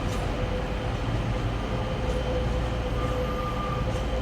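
A Pacer diesel multiple unit at Sheffield station gives a steady, loud rumble with a faint tonal whine running through it, continuous across the whole stretch with no voices.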